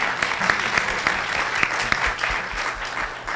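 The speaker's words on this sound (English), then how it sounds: "Can we give them a round of applause?" A brief round of applause at a community forum on medical trust, with clear individual claps standing out over a steady patter from the audience.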